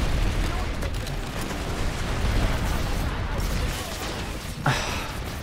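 Explosions in the video game PlanetSide 2, a continuous dense roar of booming blasts and rumbling gunfire that fills the whole stretch, with a sharper crack near the end.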